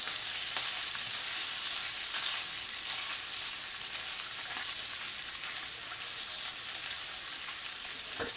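Bacon frying in a pan, a steady close sizzle with bright crackling and occasional sharper pops, continuous throughout with no voices.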